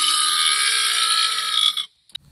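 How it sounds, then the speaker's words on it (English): A single long burp in a burping contest, drawn out for nearly two seconds before stopping abruptly, followed by a brief faint click. "I'm not very good at burps"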